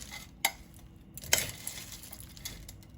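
Beans, rice and other ingredients are stirred together in a slow cooker pot, with a spoon clinking twice against the side amid soft scraping and shuffling.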